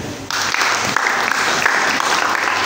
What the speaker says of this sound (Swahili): Hebu jipigieni makofi.